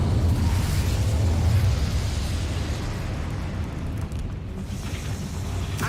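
Incendio fire spell in Hogwarts Legacy, a loud roaring whoosh of flame that starts at full strength, holds as a dense low rumble and slowly thins out, with no talking.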